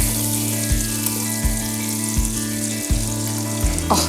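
Garlic and onions fry in melted butter in a pan, a steady close sizzle broken by a few regular soft knocks, with no talking.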